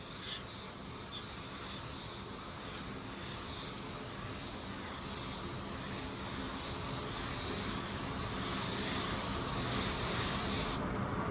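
A paint spray gun lays down a second coat on a car panel, producing a loud, continuous close-up hiss that holds steady and swells slightly before stopping at the end.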